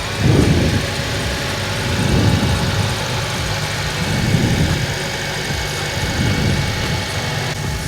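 A car engine with a weakening fan belt is started and settles into a steady idle, with a few louder surges of revving over a constant low rumble, heard close up.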